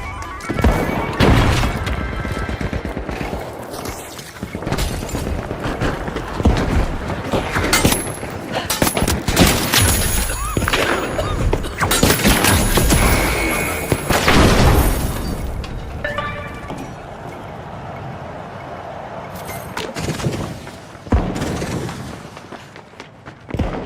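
Frag grenade explosion and rapid gunfire in the video game The Finals, with dense bursts of automatic shots, crashes and booms packed closely together at high volume throughout, and occasional voices underneath.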